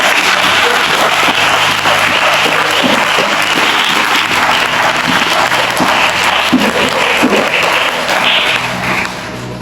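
A church congregation applauds Jesus, steady dense clapping filling the space throughout, loud and close, with faint voices mixed in and a slight drop at the very end.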